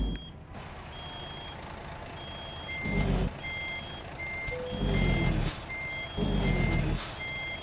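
A big truck reverses in American Truck Simulator, its steady reversing beeper repeating evenly while the engine rumbles and three loud air-brake hisses punctuate the sequence.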